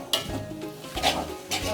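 Mie goreng fries in a pan over a raised flame while being stirred, giving a steady sizzle broken by a few scraping strokes of a utensil against the pan, close by and with no talking.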